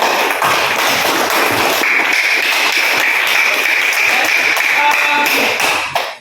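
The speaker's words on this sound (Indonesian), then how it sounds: "kita aplaus dulu untuk kita semua" A classroom of students applauds at the end of a physics lesson on projectile motion, giving loud, close, sustained clapping that lasts about six seconds before fading out.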